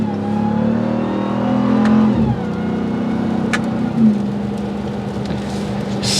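A 2022 Ram TRX engine revs under acceleration, giving a loud, deep exhaust note that rises in pitch, drops at a gear change, then climbs again and settles into a steady drone.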